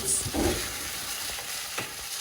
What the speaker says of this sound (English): You fry it, you saute it.